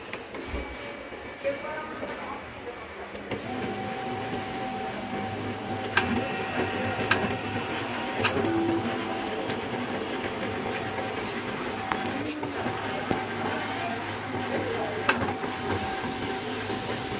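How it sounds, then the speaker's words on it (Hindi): A Canon i-SENSYS MF3010 laser printer pulls in paper and prints, producing a steady mechanical whir with a sustained tone and periodic clicks, close up, while someone talks over it. "हमारा पेपर खींच लिया, बिल्कुल बैंक प्रिंट कर रहा है अभी।"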